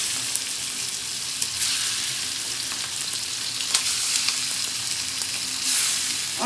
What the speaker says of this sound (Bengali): তো আমি একটু হালকা করে ভেজে নিব।